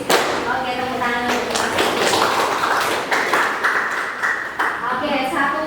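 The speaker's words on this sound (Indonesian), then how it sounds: "Oke, tepuk tangan." Students clap their hands together in a classroom clapping game, a run of quick, closely spaced claps heard alongside a teacher's talk.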